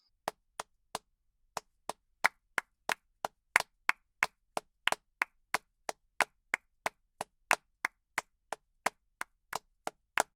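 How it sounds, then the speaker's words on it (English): Sharp claps repeat in a steady, even rhythm, each one crisp and isolated against silence, all striking together as one synchronized beat. "it's just a very simple clapping synchronization"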